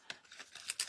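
Scissors make several quick, soft snips in close succession while crafting an Easter basket door hanger, faint and close, with no voices.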